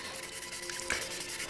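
Wet sanding an aluminum motorcycle part with 2000 grit Rhino wet sandpaper gives a steady, soft rhythmic rubbing, close and continuous, with no talk.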